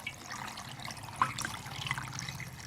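Water is poured into a pot of fish curry with bitter greens, a short, close gush and trickle of liquid.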